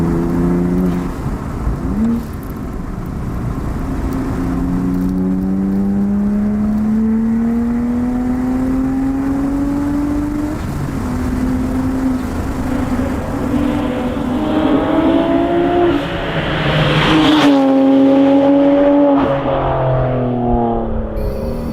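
A modified 400+ hp BMW 135i CSL drives along with its engine revving through gears, pitch climbing and dropping in repeated pulls, heard loud and close from inside the car, with a sharp shift and surge near the end.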